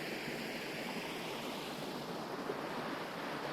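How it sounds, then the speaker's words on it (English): Small waterfall fed by a spring flowing out of a mountainside in the Ozarks along the upper Current River, a steady broadband rush of splashing water, close and constant with no talk. "It's a spring that's coming out of the side of this mountain and has made a nice little waterfall."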